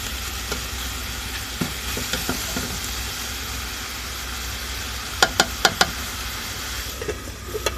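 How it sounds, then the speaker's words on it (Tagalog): Chicken white stew is stirred in a sizzling pan, a continuous frying hiss broken by scattered spoon scrapes and a quick run of sharp clicks, close and clear with no talking. "halu-haluin lang natin baka masunog"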